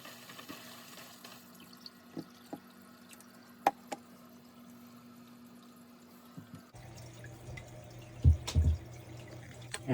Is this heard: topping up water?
yes